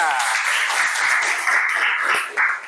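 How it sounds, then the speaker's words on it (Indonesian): A classroom of students at a school applauding together, a dense steady clapping that lasts the whole moment, close and fairly loud. "Tepuk tangan untuk kita semuanya."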